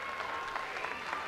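A circus audience applauds an equestrian performer and clowns, with steady, dense clapping filling the short moment at an even level.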